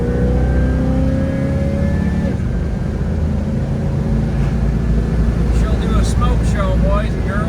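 A 1971 Chevrolet El Camino Super Sport with a 350 V8 and positive traction rear end doing a burnout, a loud sustained engine roar with a rising rev that drops, then steady churning and tire squeal, voices faintly underneath.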